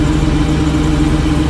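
A 1988 Ford F700 dump truck engine idles with the idle raised to run the PTO, a loud, steady, close low rumble with no talking.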